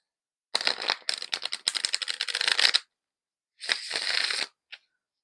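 An oracle card deck called Sassy Spirits is riffled and shuffled up close in two crisp bursts of rapid flapping, separated by a short pause and ending with a single tap.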